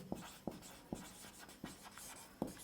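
Chalk or marker writing a circle equation on a classroom board, five or six distinct quick taps and strokes in a steady rhythm, close and fairly quiet.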